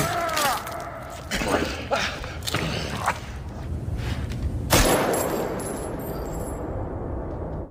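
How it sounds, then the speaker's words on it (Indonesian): Several sharp gunshots crack in quick succession amid a noisy scene, followed by a heavier blast and a ringing, fading tail. "membunuhnya dengan satu tembakan terakhir"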